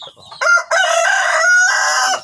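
A crossbred village rooster crows loudly and close by, one long full cock-a-doodle-doo with a rising start and a sustained, strained ending.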